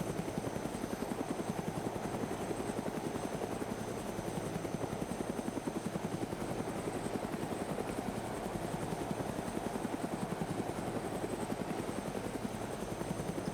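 A helicopter in flight gives a loud, continuous rotor thump with rapid, even blade chop and a steady engine whine, sounding close and constant throughout with no talk.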